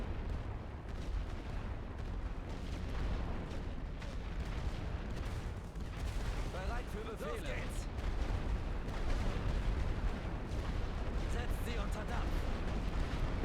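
Artillery fire rumbles through the WWI trench-warfare game The Great War Western Front, a dense, steady barrage of booms and gunfire filling the whole stretch, with a voice talking over it.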